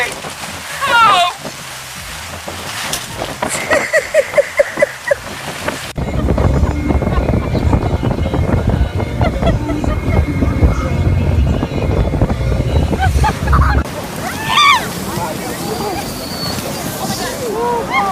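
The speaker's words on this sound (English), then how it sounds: "I cannot get over how windy it is." Strong wind blows outdoors, buffeting the microphone in a loud, continuous roar through the middle stretch, while people talk and exclaim before and after the gusts.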